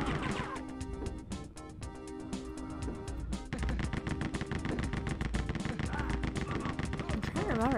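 Rapid gunfire from the shooter game Rise of the Triad rattles on continuously through the whole stretch, dense and loud over game music and effects, with no pauses.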